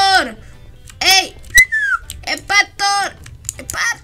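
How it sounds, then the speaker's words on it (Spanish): A person whistles a short, sliding note that drops in pitch, set among bursts of voiced sounds in a Minecraft roleplay scene. "Me ibas a silbar"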